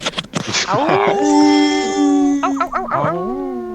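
Tabletop role-playing players imitate wolves with their voices, layering drawn-out, rising and falling howls close to the microphone, with a couple of voices overlapping loudly.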